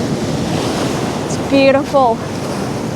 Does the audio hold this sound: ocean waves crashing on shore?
yes